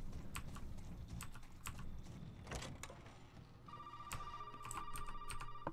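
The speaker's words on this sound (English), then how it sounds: "Oh, that's a phone call." Phone ringing in the Resident Evil 7 video game, a steady electronic tone that starts partway through and continues over clicking and tapping noises in a quiet room.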